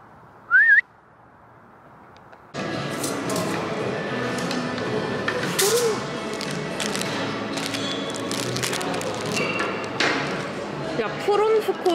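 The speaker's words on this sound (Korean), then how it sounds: "너 휘파람 불어봐." A person's brief rising-falling whistle near the start, then a noisy stretch of talk and clatter with a faint whistle or two buried underneath.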